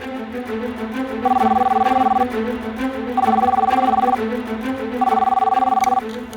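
A telephone call to a school rings out as three evenly spaced ringback tones, each about a second long, clear and steady over a low background hum.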